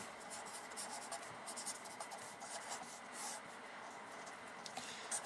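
Pen scratching steadily on paper while working through a high school math exam problem, soft close strokes in short bursts with brief pauses, quiet and alone.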